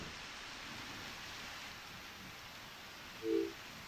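Steady, faint rain hisses in the Harvest Moon: Back to Nature video game, an even wash of falling drops with a short tonal blip near the end and no talking.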